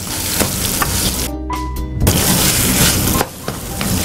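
Tempering of spices being stirred into a chutney in a pan just after the stove is switched off, giving a loud, steady sizzle and crackle with scraping stir sounds and a brief quieter dip partway through.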